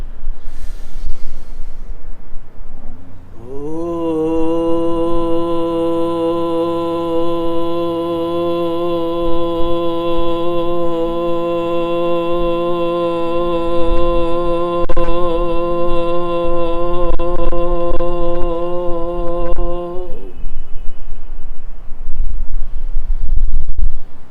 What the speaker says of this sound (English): You want to chant the word Om, and also do a slow release of your breath